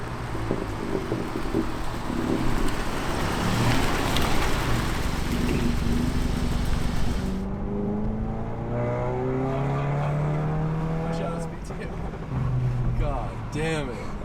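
An APR Stage 2 tuned VW GTI roars past at full throttle, the engine rising through the revs and then fading as it pulls away. Wind noise and rumble run underneath throughout.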